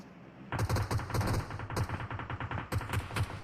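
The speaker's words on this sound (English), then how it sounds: "got a few shots coming in off the edge" Gunfire in an esports battle round: rapid, loud automatic bursts fire in several close clusters after a brief quiet start, with almost no talk.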